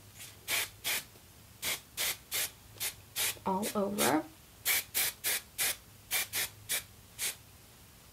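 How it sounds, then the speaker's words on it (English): Short hissing bursts of aerosol hairspray repeat in a quick rhythm, close and crisp, with a brief spoken phrase partway through. "And of course I'm going to give it one last spray"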